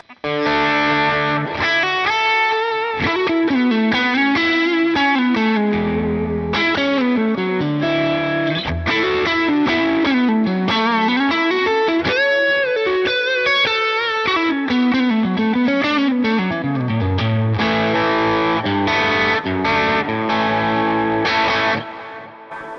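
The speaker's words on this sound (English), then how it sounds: "switch it over into overdrive mode and take the gain up" Overdriven electric guitar through a Line 6 Helix effect, playing a sustained, singing lead line with bends and slides, gritty and up front, with no talking.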